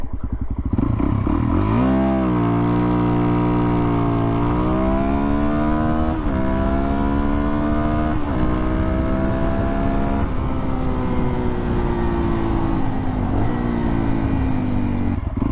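A Suzuki DRZ400SM supermoto motorcycle accelerating hard from a second-gear launch on a road, engine revving up repeatedly with rising pitch through several gear changes, loud and close with buzzy single-cylinder tone.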